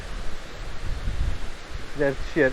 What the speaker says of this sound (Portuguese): tem umas quedas de água